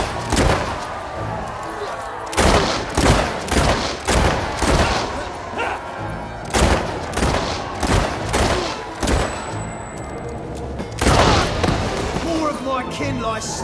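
Gunfire in a Fable 3 battle rings out as a series of sharp, loud, close shots in irregular bursts, mixed with game music and voices talking between the blasts.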